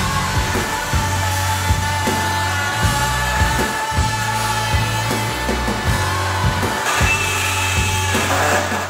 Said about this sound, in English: we're going to give the multi-tool a go with a new blade,